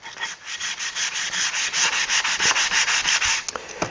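Steady rhythmic hand sanding on a wooden hammer handle, with regular back-and-forth strokes of abrasive paper rasping close by, a few sharp knocks near the end, no talk.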